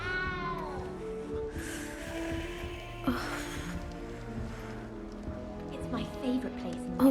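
A small cat meows in Hogwarts Legacy, its short cries rising over music and ambient game sound while voices talk throughout.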